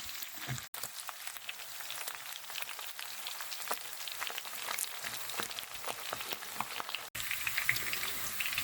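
Pork cracklings frying in an uncovered pan over medium heat, a close, crackling sizzle with dense irregular spits and pops that continues steadily, briefly cutting out twice.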